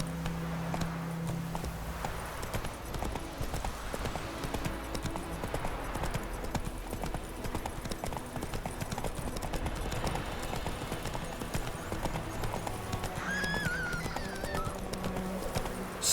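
Hooves of Roach, the horse in the video game The Witcher 3, clip-clop at a steady galloping rhythm through the whole stretch over a constant game ambience, with a brief whinny-like call near the end.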